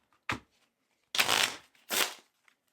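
Cards for the Doggos: Forever Home board game being shuffled at close range: a short riffle, then two longer riffling bursts separated by brief pauses, with no talk.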